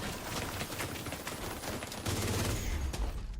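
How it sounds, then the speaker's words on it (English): Sustained rapid automatic gunfire from a minigun in The Division 2, a dense continuous crackling burst that swells louder near the end, with no voices over it. "minigun in the background"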